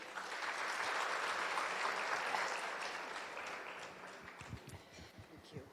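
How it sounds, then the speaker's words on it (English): An audience at a women's chapter event claps together in a full burst of applause that thins out and tapers off toward the end, leaving scattered claps. "we all must clap for ourselves"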